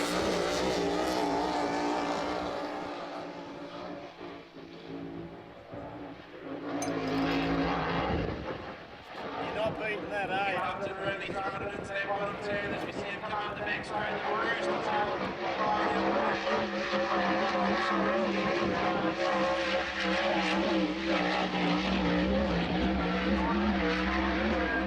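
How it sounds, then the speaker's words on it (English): Race cars on a hot lap at a New Zealand track, a loud continuous engine roar with rising and falling revs and gear changes, with a brief dip partway through and voices mixed in. "I got the video of Ken's hot lap."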